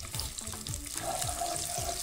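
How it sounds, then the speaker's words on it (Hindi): Sliced onions fry in hot oil in a professional hotel kitchen, making a steady, close sizzle with light scraping and stirring sounds underneath and no talking. "हमारा ऑयल गर्म हो चुका है, अब हम इसमें जो हमने स्लाइस करी अनियन वो डालेंगे।"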